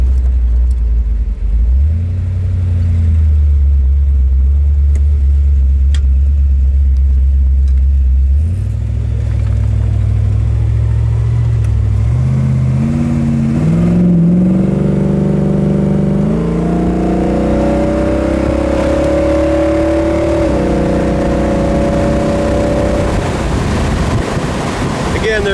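A 1966 Ford Fairlane on the road, its engine droning low and then climbing through rising revs as it accelerates hard, heard from inside the car under heavy wind rush with no talking.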